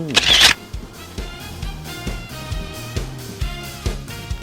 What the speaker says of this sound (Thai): ขอแชะสักภาพละกัน